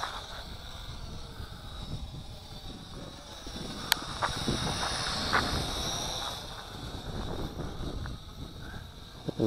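A ZC Toys Z1 quadcopter drone flies outdoors in gusty wind, its steady high motor whine running the whole time over a rough, blustery wind rumble, with a few brief sharp clicks.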